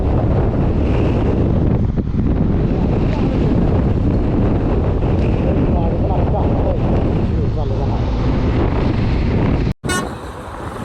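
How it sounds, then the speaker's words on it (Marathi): Strong storm wind buffets the microphone during a Benelli motorbike ride on a highway in Rajasthan, a loud continuous roar of rushing air that cuts out briefly near the end before resuming. "वादळ बघा केवढा आला"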